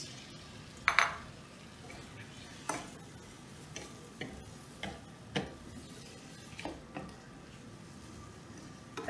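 Tomatoes and eggs are stir-fried in a pan at home, with quiet, irregular clinks and scrapes of a utensil against the pan over a faint background, heard close and alone.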